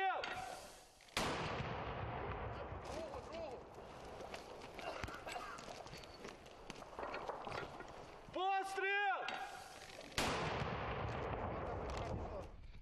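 Sharp blasts of light mortar fire boom out at intervals over a busy outdoor scene in the battle for Bakhmut, with nearby clatter and movement between shots.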